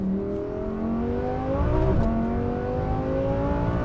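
A 1000 hp twin-turbo rear-wheel-drive Audi R8 accelerates hard, its engine note climbing in pitch, dropping briefly at a gear change near the middle, then rising again, loud and close from inside the car.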